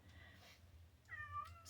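A domestic cat meows once, a rising-then-falling tonal call near the end of the short stretch, fairly close but soft over a low room hum.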